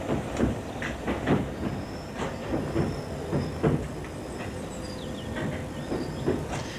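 An Edgware-line London Underground train rumbles nearby, wheels clicking in a steady clickety-clack rhythm over rail joints, with a faint hiss and a high squeal toward the end.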